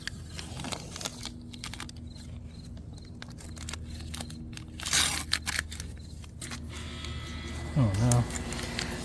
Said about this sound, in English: Well, the neighbor's air conditioner came on, so sorry for the noise.